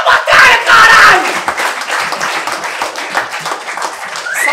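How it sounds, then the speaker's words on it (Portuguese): Crowd at a rap battle semifinal cheers and claps loudly after the round, with shouts rising over the applause before it thins out toward the end. "Palmas pra essa batalha"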